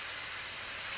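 Four cloves of minced garlic sizzle in a hot pan, a loud, even, close-up hiss with no talking.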